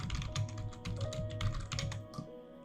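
Fingers typing quickly on a computer keyboard, a rapid uneven run of close, crisp key clicks with no talking.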